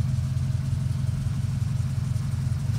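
A 2011 Chevrolet Silverado pickup with dual exhaust idles in a steady low rumble, continuous, deep and even, with a slight throbbing pulse and no voices.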